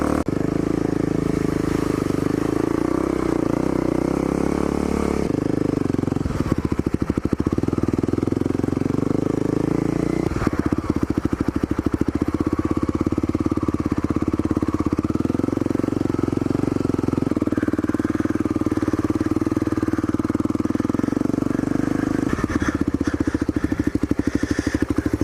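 A dual sport motorcycle on 50-50 tires rides off-road through sand and mud, its engine droning loudly and continuously up close, the pitch and load shifting as the throttle rises and falls.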